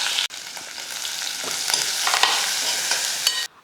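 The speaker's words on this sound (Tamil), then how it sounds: "எண்ணெய் நல்லா காஞ்சதுமே நல்லா கடுகு உளுந்து சேர்த்துட்டு கூடவே 2 வரமிளகாய் சேர்த்துட்டு" Mustard seeds, urad dal and two dried red chillies sizzle and crackle in hot oil for a Tamil New Year vegetarian meal, a steady loud frying hiss with small pops, while being stirred, with no talk.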